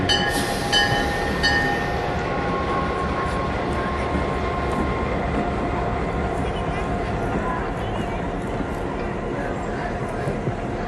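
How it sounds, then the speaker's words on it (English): Southern Pacific 1518, an SD7 class diesel locomotive and former demonstrator, pulling onto a station track during a diesel days parade: a continuous heavy rumble and rolling rail noise with brief squeals early on, a voice talking over it throughout. "Pulling into the reviewing area on Station Track 2 now is the Southern Pacific 1518."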